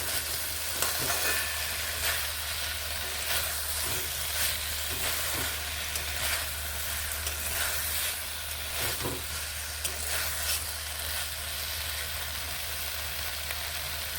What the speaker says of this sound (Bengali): এবার একটুখানি ভেজে নিচ্ছি এইভাবে